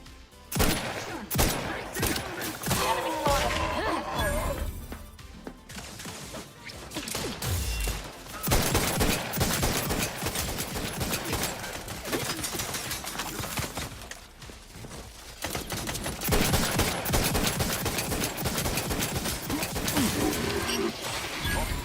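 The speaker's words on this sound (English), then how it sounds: "They must be used to hearing those sounds of gunshots." Dense, sustained gunfire with rapid bursts and volleys from mechs in The Outer Worlds 2, loud and continuous over a busy game soundscape, with occasional crashes.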